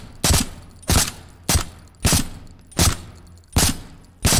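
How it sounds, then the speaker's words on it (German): Seven evenly spaced gunshots from a VR shooter game, Contractors, fired one at a time at a steady rhythm about every 0.6 seconds, each a loud sharp crack with a short decaying tail. "Ich versuche auch ungefähr gleich schnell zu schießen."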